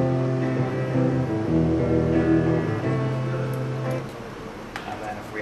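A clean recorded guitar sample without distortion, sustained chords ringing steadily at moderate loudness with no talk over them.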